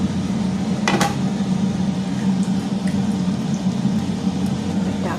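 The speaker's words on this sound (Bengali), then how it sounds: "তাই আমি এই যে মাছের মাথা টাথা সবই দিয়ে দেবো" Hilsa fish heads going into a pot of boiled potato and taro curry, with one sharp clatter of metal and splash early on, then a steady simmering hiss and hum.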